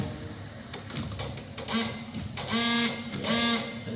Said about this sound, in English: So the washer pump's plugged back in, on.